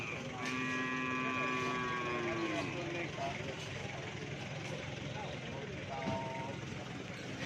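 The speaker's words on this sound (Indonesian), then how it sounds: "Banyak sapi-sapi mula ternyata" Cattle low nearby, one long drawn-out moo that slides downward, then a shorter call later, over a steady outdoor background of passing vehicle noise.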